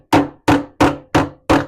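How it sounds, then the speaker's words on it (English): A hammer drives a T-nut into wood with five loud, evenly spaced strikes, each a sharp ringing knock close up, with no voices. "You don't have to hammer it all the way in"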